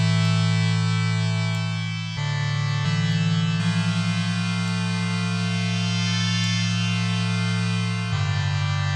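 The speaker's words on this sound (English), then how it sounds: "I think this needs some sort of maybe cavernous reverb." A buzzy, distorted polyphonic synth holds sustained chords drenched in a cavernous reverb, shifting to new chords a few times with soft pulsing textures, with no voices.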